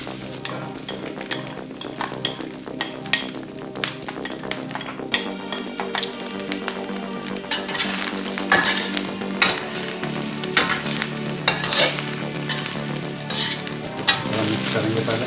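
Rice with carrot and capsicum being stir-fried for egg fried rice, a loud continuous sizzle with rapid rhythmic clinks and scrapes of the spatula against the pan, no talking.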